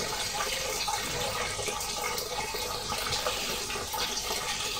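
Whisky malt wort pours from the mash tun in a steady stream, a loud, continuous splashing gush that runs the whole time with no talking over it.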